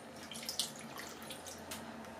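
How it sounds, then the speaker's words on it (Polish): Pickled-cucumber brine, about 150 ml, is poured into a pot of simmering beef rolls in sauce, a faint short trickle and splash over quiet kitchen background. "I teraz właśnie dolewam tą wodę z ogórków."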